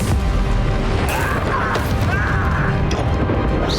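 Confringo blasting spells explode during a troll boss fight in Hogwarts Legacy, a dense and loud wall of booming, crashing impacts that rumble continuously, with short sharp bursts standing out from a heavy low roar.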